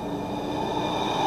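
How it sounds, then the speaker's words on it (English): An out-of-service Randstadrail tram passing nearby, giving a steady rolling rumble of wheels on rails with a thin metallic squeal rising near the end, no one talking. "Here's the tram."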